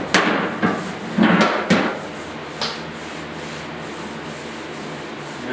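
Dents being tapped out of a 1971 Chevy pickup's steel tailgate with a nail: a few sharp, close metallic knocks and scrapes in quick bursts early on, then one more tap, fading to quiet shop background.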